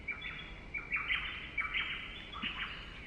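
White-eared honeyeaters call outdoors in short, faint, repeated chirping phrases, some distance away over a quiet hiss of background.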